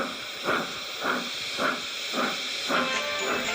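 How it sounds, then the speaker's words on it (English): A steam engine pulls away with rhythmic chuffing hisses, about six even bursts of steam, loud and close over a steady background hiss. "he went off in a cloud of steam"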